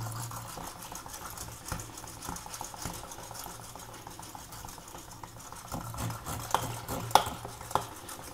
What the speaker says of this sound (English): And then mix it really thoroughly with a whisk.